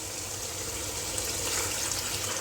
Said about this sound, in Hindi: साथ ही साथ इसमें मैं अब पानी भी डाल दूँगी